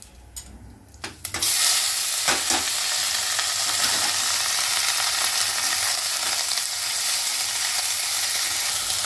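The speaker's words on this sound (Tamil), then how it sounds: "இதில் கடுகு, உளுத்தம்பருப்பு, இந்த அவரைக்காய் நறுக்கி வச்சுட்டுருக்கேன்." Mustard seeds, urad dal and broad beans sizzle and crackle steadily in hot oil in a pressure cooker, a loud continuous fry that starts abruptly after a brief quiet moment and runs on alone.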